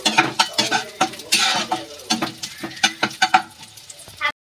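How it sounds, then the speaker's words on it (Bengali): Small chopped coconut pieces frying in hot oil with repeated clatter of a spoon stirring against the pan, close and fairly loud in short bursts, no voices. "নারকেলটা ভেজে নেব, ছোট্ট ছোট করে কেটে নিয়েছি,"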